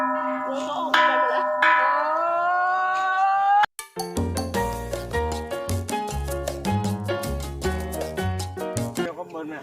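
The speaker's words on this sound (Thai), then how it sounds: "ตีระฆังบนยอดเขาด้วยตนเองนะครับ" A bell struck by hand on a mountain top at Phu Ngao Dao Dueng, first a long ringing tone, then a rapid series of sharp metallic strikes with bright overtones, close and loud.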